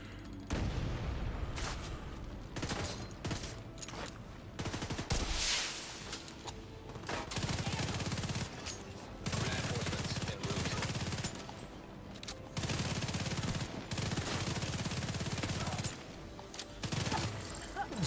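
Bursts of CTAR assault rifle fire in The Division 2, loud repeated volleys separated by short pauses, with booming impacts and battle noise between the strings of shots.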